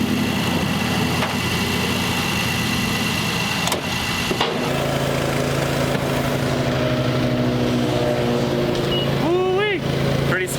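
A 2019 Honda Odyssey EXL engine turns over and settles into a steady, even idle, with a sharp change partway through, and a person speaks briefly near the end.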